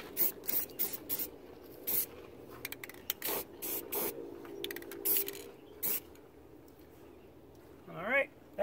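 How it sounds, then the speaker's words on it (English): Aerosol spray can hissing in repeated short bursts of varying length during a truck trailer camera and tire pressure sensor install, with people talking between sprays. "Nice rattle can."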